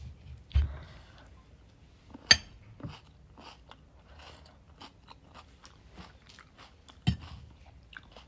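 Someone munches salad with cheese close to the microphone, giving soft, repeated crunchy bites and chewing sounds in an irregular rhythm with a few sharper louder bites.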